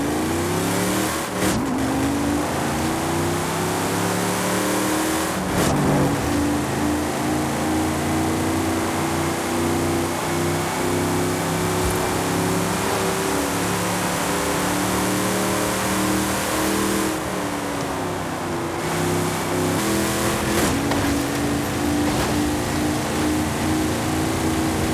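A lifted 1970 GMC Jimmy in Forza Horizon 5 drives along with its engine steadily droning and revving, the pitch rising and falling through gear changes, loud and close for the whole stretch with no talking.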